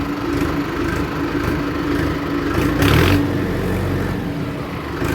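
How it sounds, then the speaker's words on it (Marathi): A Mahindra Arjun Ultra-1 555 DI 50 tractor engine running close by, a steady heavy diesel drone with a brief louder surge near the middle. "ट्रॅक्टरचा आवाज वगैरे बघता ते पण आपल्याला चांगला भारी आवाज होतो"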